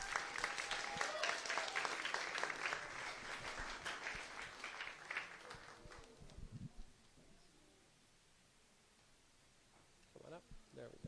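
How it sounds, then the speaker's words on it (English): A crowd at an outdoor Hanukkah menorah lighting at a state capitol claps briskly for a few seconds, then the applause dies away into quiet ambience with a brief murmur. "Round of applause."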